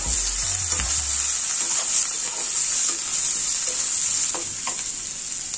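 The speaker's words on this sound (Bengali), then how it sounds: "পেঁয়াজটা একটু নেড়ে নেব।" Chopped onion frying with panch phoron in hot oil, a loud continuous sizzle with soft scraping of a stirring utensil, a low thump near the start, no voices.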